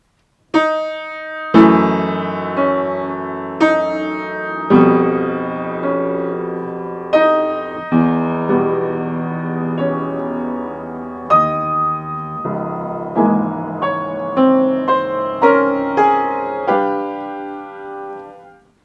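Solo piano plays a piece by Lili Boulanger, with a recurring sighing motif of falling notes leading toward a climax; separate struck notes and chords ring out with sustain, loud and close, without speech.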